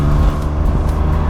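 A loud car engine runs steadily up close, with a dense low drone and slight rhythmic pulsing, and no voices.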